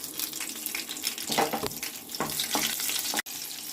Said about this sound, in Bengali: তেল গরম হয়ে গেছে কালো জিরে চিরে রাখা তিনটে পাকা লঙ্কা